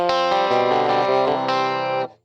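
Electric guitar through a Rockman on the Clean 1 setting, with a short chord that rings with a chorus-like shimmer and changes once before fading out after about two seconds.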